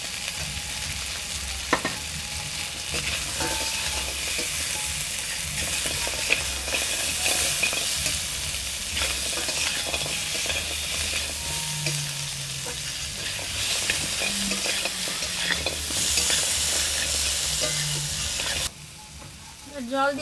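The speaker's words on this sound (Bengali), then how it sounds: "এবার বড়িটা দিয়ে দেব," Bori lentil dumplings fry with spice paste in a pan for a rui fish curry with potato and eggplant, making a loud, constant sizzle with scraping stirs throughout that drops off briefly near the end.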